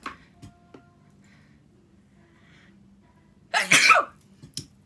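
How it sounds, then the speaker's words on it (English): A single sharp sneeze bursts out after a quiet stretch with faint breathing and a few small ticks, followed by a brief sniff, close and loud. "oh, I need to sneeze."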